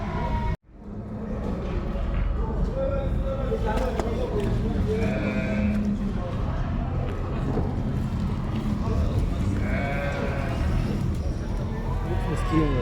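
Sheep and goats bleat now and then at a busy livestock market, their calls rising over constant crowd chatter and close talking, with steady background bustle throughout.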